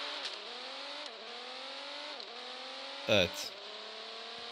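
Engine of a Lamborghini or Porsche in the Car Parking Multiplayer video game, a steady whining drone rising in pitch through repeated gear changes, with someone talking over it and a brief louder burst midway.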